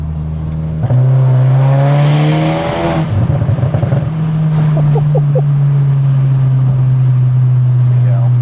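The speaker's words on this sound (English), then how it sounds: "I think this is definitely the loudest car I've ever had on the channel." A Stage 3 Mk3 Seat Leon Cupra R tuned to 500 BHP drones loudly from inside the cabin, its engine note rising under acceleration then settling into a steady boom, with people talking over it.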